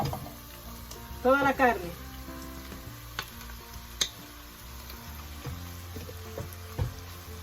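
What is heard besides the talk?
shredded beef frying in pan for ropa vieja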